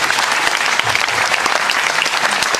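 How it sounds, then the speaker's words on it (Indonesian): Loud, dense applause from a large gathered audience for Gus Yusuf, many hands clapping continuously and evenly across the short stretch with no pause. "tepuk tangan untuk Gus Yusuf"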